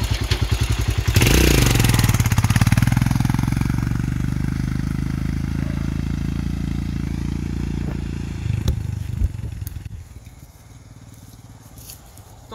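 Royal Enfield Himalayan motorcycle riding off road across a farm field, its engine running loud and steady for several seconds, then fading out amid clatter and thumps as it moves away; no talk.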